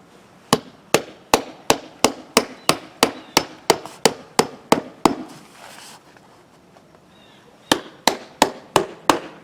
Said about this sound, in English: So now I'm just going to go ahead and set all these nails.